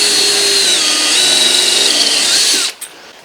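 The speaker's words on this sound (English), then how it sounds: "I'm just drilling a pilot hole." A power drill bores a pilot hole into a garage wall, running steadily and loud for about two and a half seconds before cutting off abruptly.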